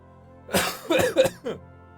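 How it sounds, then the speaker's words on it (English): A single close cough breaks out in a few harsh bursts, then stops; no talking around it. "Random cough out of nowhere."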